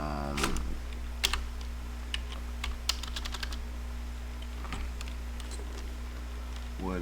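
Typing on a computer keyboard during a livestream, a steady patter of key clicks throughout, close and fairly quiet, over a low constant hum with no talking.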